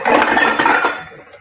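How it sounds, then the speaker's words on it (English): Pots and pans clank and rattle together while cooking in a kitchen, a loud, close metallic clatter lasting about a second before fading out. "I do apologize about the pan noises."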